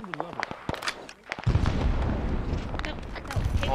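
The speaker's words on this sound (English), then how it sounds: "Mortars are coming in." Incoming mortar explosions in the video game Arma 3, set in Vietnam: a loud sustained rumble of blasts and gunfire builds from about halfway and continues, with scattered sharp cracks and a voice speaking at the start.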